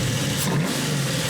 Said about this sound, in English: Here's another really cool thing about the EFI. The throttle response is immediate.